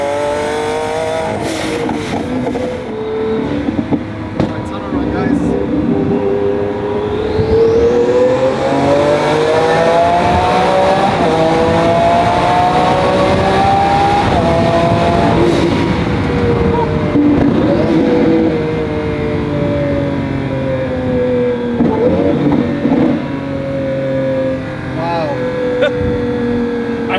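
A twin-turbo Lamborghini Aventador accelerates hard through a tunnel. The loud engine roar climbs and falls in pitch through gear changes, echoing off the walls, with people talking over it.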